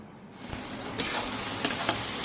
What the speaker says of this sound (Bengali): পেঁয়াজ আদা রসুন পেস্ট টেস্ট করে এবার খাসির মাংসটা বসিয়ে দেবো